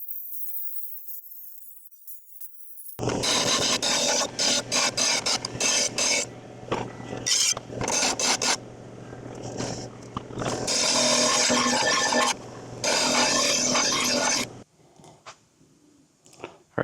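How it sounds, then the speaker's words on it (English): A jigsaw cutting out a custom vent panel, buzzing loudly in repeated bursts of a few seconds each, with brief pauses between cuts and a quieter tail at the end. "Now I'm just going to get out the jigsaw and start cutting it out."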